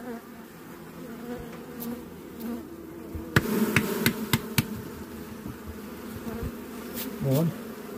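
A low steady hum of many honeybees clustered in a hive during a November brood inspection fills the background, interrupted midway by a short burst of sharp knocks or taps.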